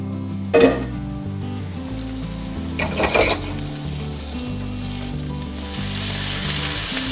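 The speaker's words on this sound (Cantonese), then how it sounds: "我哋先將嘅青椒、洋葱炒佢嘅" Green pepper and onion stir-frying in oil in a wok, a loud continuous sizzle broken early by two clattering bursts of spatula against metal, then an even, strengthening hiss.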